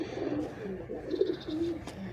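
Pigeons in a rooftop loft give soft, throaty coos in a brief, steady stretch, heard close with a faint higher chirp and no voices.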